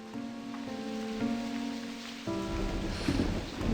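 Steady rain falls in the video game Slime Rancher 2, making a continuous hiss of rainfall under the game's tonal music, which grows denser partway through.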